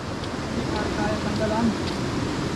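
Strong river water rushes in a steady, dense roar that stays loud and unbroken throughout, with faint voices briefly rising over it.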